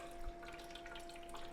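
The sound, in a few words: COWSAR portable ice maker pulling in water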